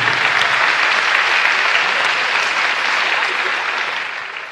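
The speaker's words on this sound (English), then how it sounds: "Fans, let's give these teachers a round of applause" Fans in a school gym applaud teachers at a girls' high school volleyball game, a dense, sustained wash of clapping and crowd noise that tapers off slightly at the end.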